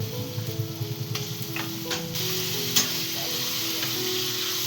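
Spices sizzle steadily in a hot pan during home cooking, a loud continuous frying hiss with occasional light stirring clicks and no voices.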